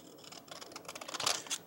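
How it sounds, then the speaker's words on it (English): A pair of scissors snips and slices open the end of a paper envelope, giving a short burst of close, crisp cutting and rustling sounds. "I'll take the end of it and open it with a pair of scissors"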